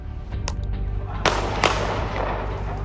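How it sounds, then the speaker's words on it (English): Several sharp gunshots from a gang shootout in Russia crack out in quick succession, loud and echoing, with a lingering rumble and hiss between the bangs. "Multiple shots rang in the air as the gangs exchanged gunfire"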